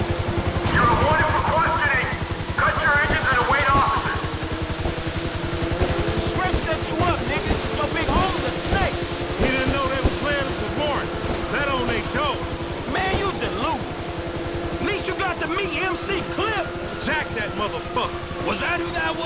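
Boat engines roaring in the open-world game GTA 5 on a sewer channel: a steady, loud motor drone with churning water noise throughout, while voices talk over it.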